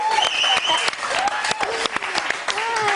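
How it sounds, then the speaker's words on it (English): A studio audience applauds for Dolly Parton in a steady burst of clapping, with voices talking over it throughout. "Another round of applause"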